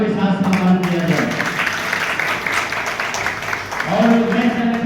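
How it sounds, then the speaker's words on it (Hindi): An audience at a formal event applauds a young girl singer, a sustained burst of clapping with a voice speaking over it at the start and near the end. "मैं आप सभी से अनुरोध करूंगा कि उन्हें तालियों के साथ सम्मान किया जाए"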